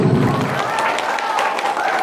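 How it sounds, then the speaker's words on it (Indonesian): An audience at a religious talk in Indonesia breaks into applause, a dense, loud burst of clapping mixed with crowd murmur and a lingering voice tone. "Tepuk tangan dulu."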